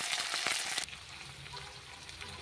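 Turmeric, slit green chillies and chopped tomato hit hot oil in a pan for a Bata fish curry, bursting into a loud hiss that drops abruptly to a softer, steady sizzle.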